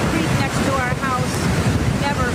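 Rushing floodwater from a storm-swollen stream in Northern California during a bomb cyclone, a steady loud broadband roar of churning water with wind noise, continuous throughout.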